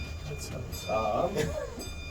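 Sandia Peak aerial tram car moving along its cable above Albuquerque, a steady low rumble and hum inside the cabin with faint metallic squeaks, and a voice speaking over it.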